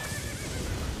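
A horse whinnies briefly in the video game Elden Ring, a loud, close, wavering neigh over a dense background of game sound.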